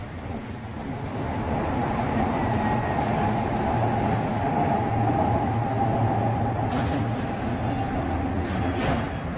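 A three-coach Nagpur Metro train running under overhead wires passes by. It makes a steady, moderately loud rumble that swells slightly and holds, with no talking.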